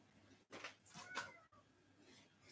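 A house cat calls from nearby with a couple of faint, drawn-out meows heard from a kitchen, set against quiet room noise, with no talk.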